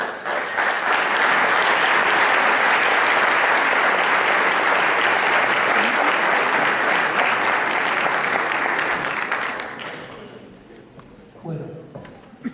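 Sustained audience applause at a cultural panel event honoring writer Álvaro Mutis, loud and steady for about ten seconds before fading out, followed by faint murmurs and a speaking voice.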